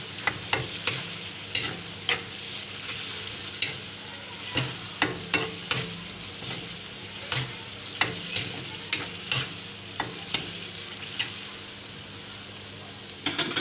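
Prawns with garlic ginger paste being stirred and fried in a karahi, a steady sizzle punctuated by repeated sharp scraping clicks of the spoon against the pan.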